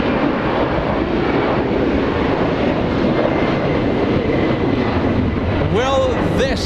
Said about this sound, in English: Oh, that's such a heavy takeoff.